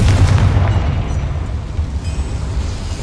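A Confringo blasting spell goes off in Hogwarts Legacy inside a goblin mine, a loud deep booming blast with rumbling low end that decays over a few seconds, heard alone without speech.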